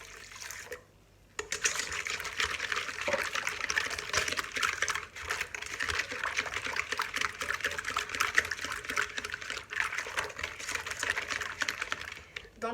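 A glass of warm milk pours into brioche dough, a continuous splashing, gurgling stream after a brief pause, steady and close.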